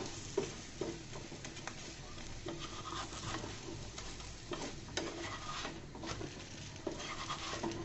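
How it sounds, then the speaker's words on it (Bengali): An egg-stuffed paratha frying in a little oil on a pan gives a soft, continuous sizzle with occasional scraping and turning sounds, close and fairly quiet, no one speaking. "দেখুন বন্ধুরা, এটাকে আমি অল্প তেল দিয়ে ভেজে নিয়েছি।"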